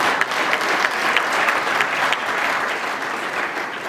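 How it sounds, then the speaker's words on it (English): Steady, dense applause from the audience at a 2019 Imo State governorship debate fills the whole stretch, many hands clapping at once with no voices standing out. "Give them a round of applause."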